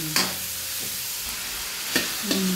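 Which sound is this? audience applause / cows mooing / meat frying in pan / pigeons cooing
meat frying in pan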